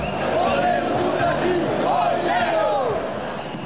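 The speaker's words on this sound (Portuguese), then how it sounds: "Gritar." A stadium crowd of football supporters shouts and chants together in a dense, sustained roar, voices rising and falling in loose unison throughout, close and loud with no single speaker standing out.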